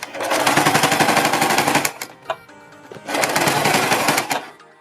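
A sewing machine runs fast and loud as it stitches a neck strip on a dress. Two rapid rattling bursts of about two seconds each are separated by a short pause with a few clicks.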